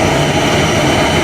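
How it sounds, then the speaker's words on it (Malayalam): A small passenger plane's engine roars loud and close on a domestic flight in Nepal, a dense, steady drone that holds without a break and carries no voices. "ഇതാണ് നമ്മൾ കയറുന്ന ഫ്ലൈറ്റ്"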